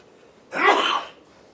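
A single sharp sneeze, close and fairly loud, breaks a quiet room during a county commission meeting.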